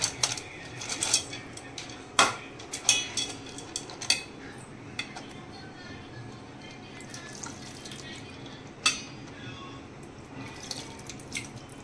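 Sago pearls being rinsed in water in a kitchen, with soft splashing and sloshing, scattered clinks of a bowl or utensil, and a few brief sharper knocks, heard alone and fairly close.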